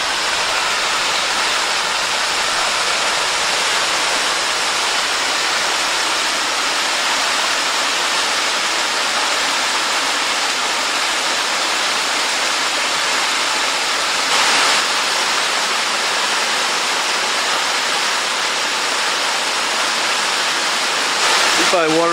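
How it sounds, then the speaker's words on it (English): A waterfall along a wooded park trail sends up a constant loud rush of tumbling water, with a brief voice near the end over the roar. "there's more waterfalls."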